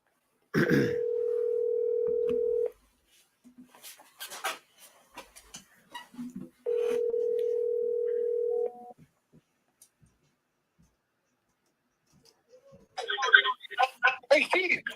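A telephone call placed from a horse racing broadcast studio: a steady ringback tone sounds twice in long pulses with a pause between, followed by faint clicks and then voices talking.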